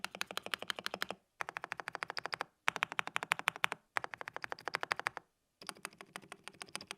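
Rapid, crisp clicking of a Dareu EK75 Pro mechanical keyboard, heard up close in five bursts of fast typing separated by short pauses.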